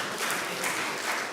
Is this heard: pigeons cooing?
no